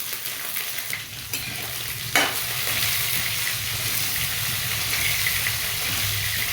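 Fennel and mustard seeds sizzle steadily in hot oil in a pan, a loud continuous hiss and crackle with a sharp clatter near the start and no talking.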